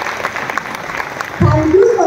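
Audience applause at a stage event honouring a guest, a dense patter of clapping heard briefly before a voice begins speaking over it.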